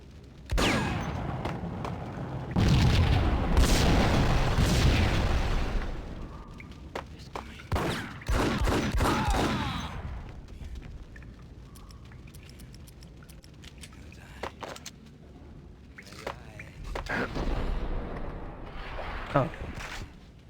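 Explosions tearing through a building rigged with explosives in the video game Max Payne, a series of heavy booming blasts and crashing debris with sharp impacts, loud and close, while a voice talks intermittently over the chaos.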